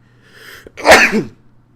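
A single sudden sneeze bursts out close and loud, preceded by a brief sharp inhale, with no talking around it.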